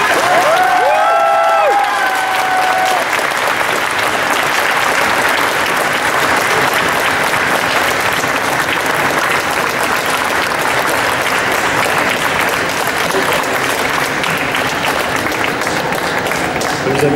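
At Japan Expo, a large audience applauds and cheers loudly to welcome guest Kazuo Nibori for Bioman's 35th anniversary. A dense, steady roar of clapping holds for many seconds, with a few whistles near the start.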